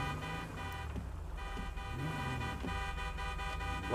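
A car horn honks amid steady traffic noise, with several short blasts standing out over a continuous engine drone.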